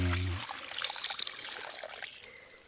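Water trickles and dribbles steadily into a fish trap set in a flowing stream channel, a close, continuous splashy wash lasting a few seconds with no talk over it.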